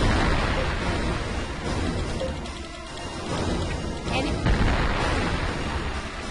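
Artillery fire in the space combat video game Infinite Space on the Nintendo DS, a dense, continuous roar of booming blasts that dips briefly in the middle before surging again.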